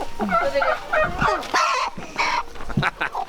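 Chickens being grabbed for processing on an Idaho homestead let out harsh, honking squawks and clucks in bursts, loud and near, with scuffling and a person talking briefly in between.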